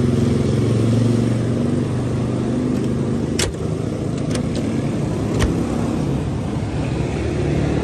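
A Toyota Verossa's 2000 cc engine idles, with double exhaust and the car parked. It gives a steady, loud broadband hum close by, broken by a few sharp ticks or clicks partway through, with no one talking.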